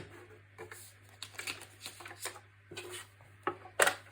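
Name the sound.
paper trimmer cutting card blanks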